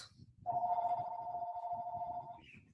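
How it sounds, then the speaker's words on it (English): A mobile phone rings during an online talk session, a single sustained electronic tone lasting about two seconds, fairly quiet, with faint background noise and a brief higher chirp at the end. "Excuse me, I'm going to turn my phone off."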